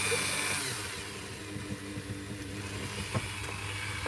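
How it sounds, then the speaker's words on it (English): A quiet electric sander runs against a woodcarving, a steady broadband hum with faint scraping variations and a few small knocks, continuous throughout. "this sander is quite quiet"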